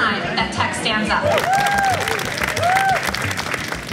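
A crowd cheers and applauds at the Tech Stands Up protest in Palo Alto, a steady wash of clapping and voices with a few whistles rising above it.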